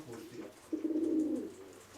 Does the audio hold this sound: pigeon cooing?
yes